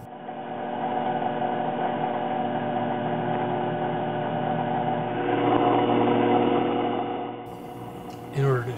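Servo motors on a hobby CNC machine driven by Mach 3 control software whir steadily as the axes move, a continuous mechanical hum swelling slightly near the end before a brief knock.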